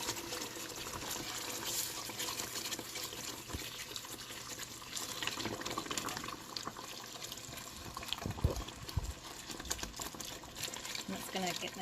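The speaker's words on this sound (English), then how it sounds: "I'm going to add the broth from the rouladen into the roux." Rouladen broth is poured into a roux in a pot and stirred, making watery pouring and swishing sounds with scattered clinks, while someone talks in the background.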